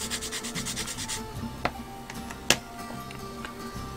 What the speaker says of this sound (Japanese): もうペーパーでコツコツやっていきますんでね